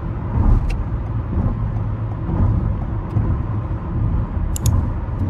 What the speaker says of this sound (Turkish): Ama birazcık gaza yüklendiğinizde bir tık fazla bir motor sesini alıyor bence.